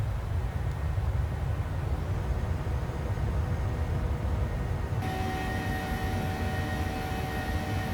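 Steady, loud roar of airliner engines in Microsoft Flight Simulator on a flight from Leeds to Montpellier, a dense whooshing drone that gains a thin tonal whine partway through.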